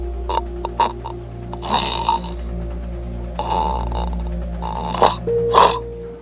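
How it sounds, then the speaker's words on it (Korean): A person snores in a series of rough, throaty snorts and rasping breaths, some louder than others, over a constant low mains hum. "코골이 소리 들어보자!"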